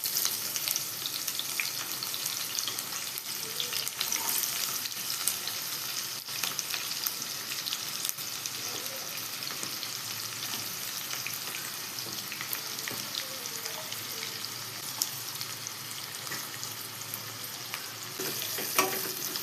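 Chopped onion fries in oil left from frying fish, with a steady, close sizzle and frequent crackles, continuous throughout with no voices.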